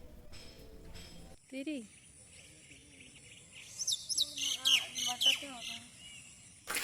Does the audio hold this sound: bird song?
yes